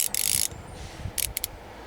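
A torque ratchet tool from a toolkit clicks during work on a Porsche's light bulbs: a rapid close run of ratcheting clicks, then a few quieter separate clicks against a low background.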